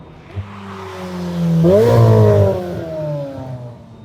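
A McLaren 750S twin-turbo V8 supercar, driven in comfort mode, rises from a steady idle into a loud, rising engine roar that peaks mid-clip and then settles back, heard up close.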